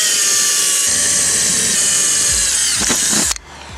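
A power drill whines steadily at high speed, then bogs briefly with a few rough bursts before cutting off abruptly near the end.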